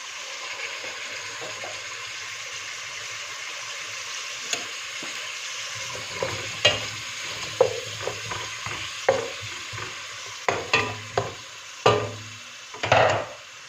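Fish heads and bones browning in a hot pan, a steady broad sizzle that flares with each splash of white wine, bursts of hissing and spattering building toward the end over scraping stirs.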